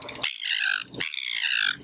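A handheld bird whistle imitates a parrot or seagull, producing two harsh, nasal squawking calls close up, each about two thirds of a second, separated by a brief breathy pause.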